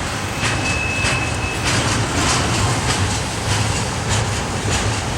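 CSX freight train cars rolling out of Pinoca Yard, a loud steady rumble with repeated rhythmic thunks and clicks of wheels over rail joints, heard up close without talk.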